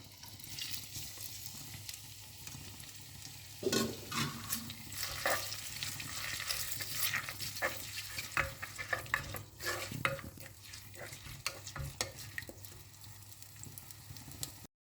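Crushed shallots, ginger and garlic with whole spices fry in hot oil in a pan, a steady close sizzle broken by sharper crackles and the scrape of stirring, with no talk.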